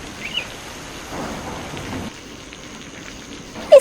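Rain patters steadily in a cartoon storm scene, with a soft low rumble of thunder rising midway and a short sharp knock at the end.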